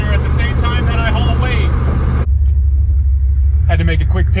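An old Dodge Ram truck hauling a heavy trailer with the windows down, a loud low engine and road rumble running steadily under intermittent talking.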